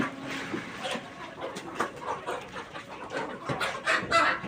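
Chickens in a backyard coop cluck and squawk as it is opened on a foggy rural morning, a busy overlapping chorus of close and farther birds with soft rustling throughout.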